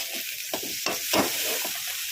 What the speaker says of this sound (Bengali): দেখো গাইস, আমি এতে মাংস আর ভাজা আলুটা কিন্তু তুলে দিয়েছি। এবার আমি এটাকে নাড়বো।